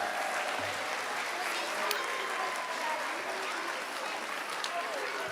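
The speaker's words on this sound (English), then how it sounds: "How about another round of applause for our kindergarten and first grade singers?" Steady, dense applause from an elementary school audience at a kindergarten and first grade concert, continuous and even throughout with faint voices mixed into the crowd.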